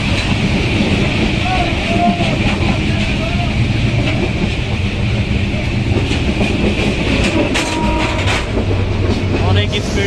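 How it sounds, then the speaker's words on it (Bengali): The Kurigram Express train in Bangladesh roars along at speed, a constant loud rumble with rhythmic clatter of wheels on the rails throughout. "তীব্র গতিতে ট্রেন যাচ্ছে"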